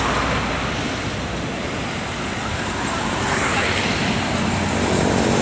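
An NPM intercity bus bound from Padang for Java passes on a Trans-Sumatra highway, a steady broadband engine and tyre roar that swells slightly toward the end, loud and continuous with no clear pauses.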